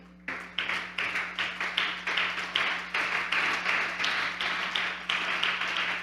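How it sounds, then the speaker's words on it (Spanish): A church congregation claps in a brisk, steady rhythm of many hands, sustained applause over a constant low hum, with no talking. "Dale ese aplauso al Rey."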